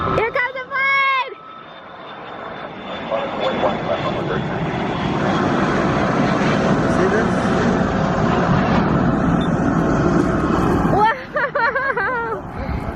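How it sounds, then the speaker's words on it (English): A passenger airplane taxis at DFW airport, its engine roar building loud and broad for about ten seconds, with people talking and exclaiming over it near the start and end. "Here comes the plane!"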